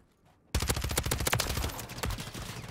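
Automatic weapon fire in Call of Duty: Modern Warfare III, a sudden loud burst of rapid shots after a brief quiet start, continuing densely with layered game combat noise.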